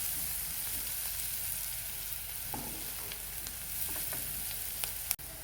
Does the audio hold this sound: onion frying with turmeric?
yes